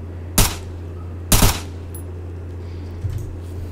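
Two sharp suppressed shots from a Steyr AUG A1 HBAR SD rifle in Arma 3, fired about a second apart on semi-auto, followed by a fainter third report against a steady low hum.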